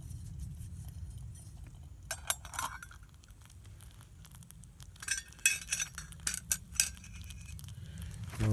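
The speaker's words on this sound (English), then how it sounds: "Okay, let's give this thing a stir." A spoon scrapes and clinks around a metal canteen cup of Southern-style grits with butter, faint and close, with intermittent metallic taps and a soft low hum beneath.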